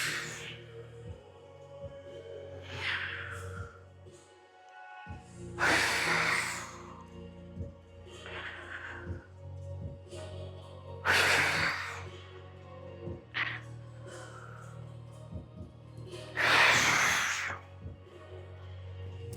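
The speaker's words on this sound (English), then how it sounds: "4 more exhales" Forceful exhales during a rib breathing drill come in about four loud, breathy gusts spaced several seconds apart, each rising and fading against a low steady background hum, with a voice speaking softly between them.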